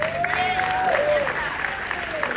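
Applause from a gospel concert audience fills the space, steady and sustained throughout, with a sung or spoken voice line gliding over the clapping.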